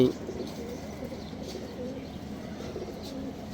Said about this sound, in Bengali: মাত্র কবুতর বের করলাম